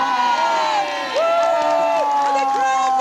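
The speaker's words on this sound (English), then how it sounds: "And the crowd went wild!" An audience at a 1997 Legoland welcome show cheers loudly, with sustained whoops and shouting layered over bright, wavering whistle-like tones.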